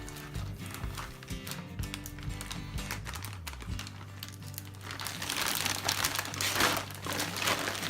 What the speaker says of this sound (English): fill up the bag.